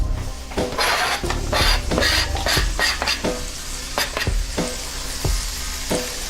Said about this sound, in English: I'm gonna get my shallots in there